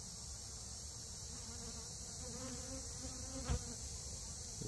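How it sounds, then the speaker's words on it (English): Honeybees feeding on mashed banana held on bare hands outdoors, giving a steady close insect buzz and hum throughout, with one brief louder knock near the end and no talking. "You can see that bee just eating it off of my hands."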